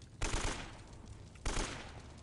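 Two loud gunshot bursts at about 0.2 and 1.45 seconds, aimed at a pile of dry wood in Uncharted: Drake's Fortune, each sharp broadband crack followed by a decaying rumble.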